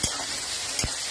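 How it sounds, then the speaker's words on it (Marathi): Onion and tomato sizzle in hot oil in a pan, a dense close crackle broken by two quick stirring knocks; no voices. "मी आहे ना कांदा टमाटा फ्राय करायला टाकला"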